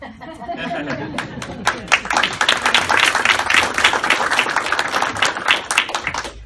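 A workshop audience gives Kim a round of clapping, dense and close, mixed with chatter and light laughter, building after a brief voice at the start and continuing to the end.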